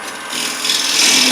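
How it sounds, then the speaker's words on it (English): A square-edged scraper draws across a wooden tenon in one short, steady rasping stroke, close and bright, growing slightly louder as it goes. "Then I'll use my squared off scraper to finish up that tenon."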